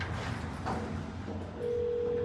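An emergency phone in a vintage Otis traction elevator clicks on and then a steady electronic dialing tone starts and holds, clear and close, after some faint background noise.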